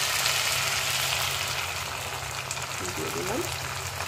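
Potatoes fry with spices in a pan for a cauliflower, potato and pea dalna, giving off a steady, close sizzle that continues throughout with a faint background hum.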